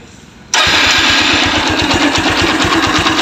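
A Kawasaki Ninja FI motorcycle engine catches after half a second of near quiet. It settles straight into a loud, close, rapid idle that pulses evenly to the end, with no voices.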